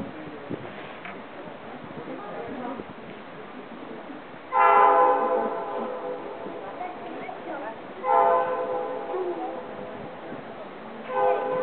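A train rumbles past with its horn sounding in long loud blasts, three times, as people talk nearby.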